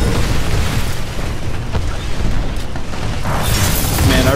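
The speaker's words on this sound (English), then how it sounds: "Man, I really like Wildfire Launcher." Heavy booming blasts from a Wildfire Launcher in Titanfall 2, loud and continuous with rolling rumble and crackling bursts filling the scene.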